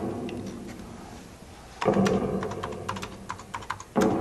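Clicky computer keyboard typing in short bursts, faint at first and then louder, quick irregular keystrokes close by, on a 1985-era computer.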